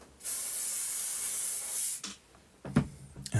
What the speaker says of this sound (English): And again, I'm going to use my hairspray.